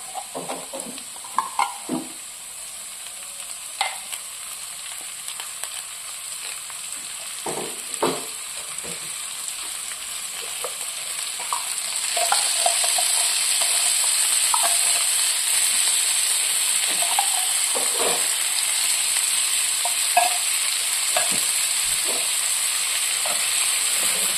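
Corned beef frying in a pan in a home kitchen, a steady broadband sizzle that grows louder and denser about halfway through, with scattered clinks and scrapes of stirring and no talking.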